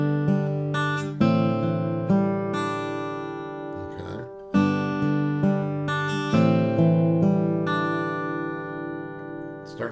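An acoustic guitar picks a song's chord pattern in steady arpeggios, each new chord struck clearly and left ringing, close and alone with no talking.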